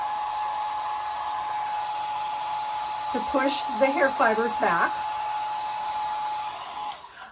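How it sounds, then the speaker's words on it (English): A steady hair dryer drones throughout at an even level, with a person speaking briefly over it midway. "And you could just go ahead and use the hair dryer"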